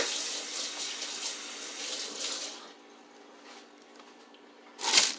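Hands are rinsed under a running kitchen tap, a steady hiss of water that cuts off about halfway through, followed by quiet, then a brief splash or clatter near the end.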